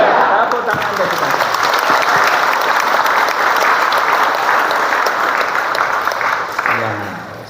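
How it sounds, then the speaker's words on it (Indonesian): A congregation at an Easter Sunday service in a Javanese church in Wonosobo, Indonesia, claps in loud, dense, continuous applause for several seconds, tapering off at the end as a voice begins speaking. "Tepuk tangan bagi kita."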